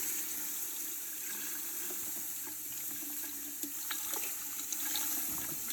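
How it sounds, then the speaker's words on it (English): Broth, 32 ounces, pours steadily into a pot for soup, a continuous wet splashing stream that stays fairly even throughout, with a few brief louder splashes near the end. "I'm going to put my broth in next. 32 ounces of broth."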